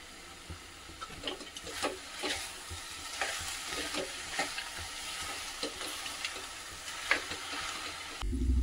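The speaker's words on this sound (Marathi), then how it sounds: "आणि हे सगळं परत एकदा छान असं मिक्स करून घ्यायचं।" Aliv ladoo mixture is stirred and mixed in a hot pan, a spoon scraping and tapping repeatedly over a soft, continuous sizzle, close and without speech, ending with a short thump.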